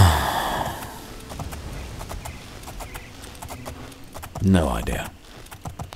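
Horse hooves clip-clopping in the video game Oblivion, a steady run of sharp close hoofbeats under someone talking and sighing.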